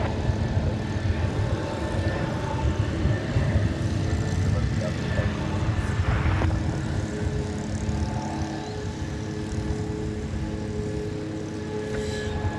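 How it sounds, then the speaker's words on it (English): An American Eagle Embraer 175 airliner powers up for takeoff at DFW Airport, a steady broad jet roar heard from a distance that holds throughout without letting up. "It'll be a Embraer 175. And this flight will get off the ground"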